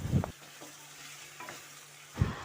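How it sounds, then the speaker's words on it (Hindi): Chicken frying in a karahi with ginger garlic paste, stirred in two bursts of scraping and sizzling, with a faint, steady hiss of oil between them. "तो ये देखिए चिकन फ्राई होते हुए 2 से 3 मिनट हो गए थे"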